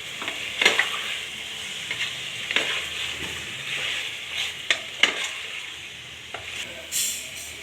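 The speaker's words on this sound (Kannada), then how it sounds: "ಅರಿಶಿನ ಪುಡಿ ಹಾಕಿ ತಿರುಗಿಸ್ಕೊಡಿ" Chicken with turmeric powder fries in a pan while a spoon turns it over. A steady sizzle runs throughout, broken by several sharp scrapes and clacks of the spoon against the pan. The sound is close and loud, with no voices.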